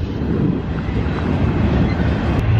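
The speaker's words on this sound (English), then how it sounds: "With your incredibly long trains." A long freight train rolls past nearby in Arizona, a loud, steady rumble of wagons with faint clickety-clack from the wheels, continuous throughout with no voices.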